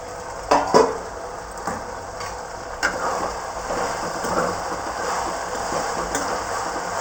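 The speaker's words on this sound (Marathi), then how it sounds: "गवारी भाजली का बघूया थोडं" Cluster beans (gavar) roasting in oil in a pan, with a couple of sharp clattering spatula knocks at the start followed by a steady sizzle and occasional light stirring taps.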